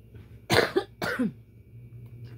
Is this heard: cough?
yes